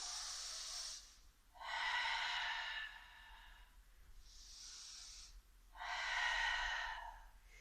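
Close, loud breaths during a Pilates abdominal and mobility exercise: four long airy inhales and exhales of about a second each, spaced in a slow steady rhythm, with no talk over them.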